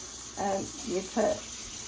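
Water goes into a yogurt maker while making SIBO yogurt. A steady, soft running-water hiss continues throughout under a nearby voice speaking a few short words.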